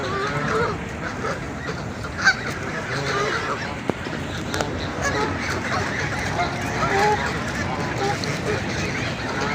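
Ducks at a pond quack and honk intermittently at a distance amid outdoor ambience and background chatter.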